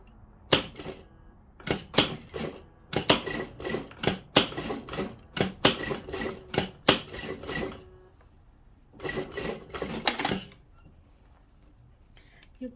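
A sewing machine stitching a tulle evening dress, running in short rapid bursts with pauses between them, close and clear.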